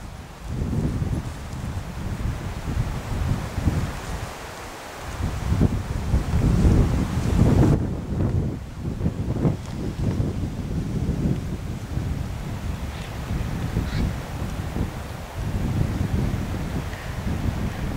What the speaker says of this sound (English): wind is certainly cold out here today